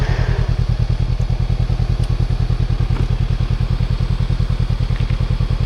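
A motorcycle engine idles close by, its steady rapid thumping pulse running evenly and loudly from start to finish without cutting out.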